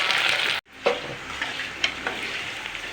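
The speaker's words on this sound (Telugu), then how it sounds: "ఉల్లిపాయలు వేగిపోయినాయి" Onions and curry leaves crackle and fry in a pan for Telangana-style rice rava upma, with a continuous near sizzle, a brief sudden drop, then scattered stirring scrapes under the hiss.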